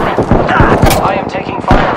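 Loud, dense Apex Legends gunfire rattles in quick repeated bursts, with voices talking underneath.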